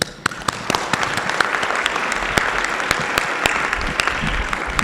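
A conference audience applauding to welcome a judge onstage, steady dense clapping from a large crowd, sustained and loud throughout.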